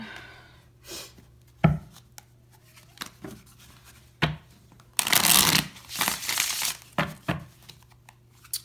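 Oracle cards are shuffled and pulled at a reading, giving scattered soft slaps and riffles with a longer burst of brisk shuffling partway through, close and fairly quiet with a low hum underneath.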